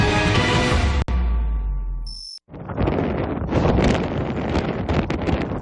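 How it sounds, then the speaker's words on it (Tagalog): Strong wind roars across a microphone during a storm in Daet, Camarines Norte, with heavy gusting buffeting throughout and a brief dropout midway, no voices. "dinig na dinig ang tila dagundong ng malakas sa hangin"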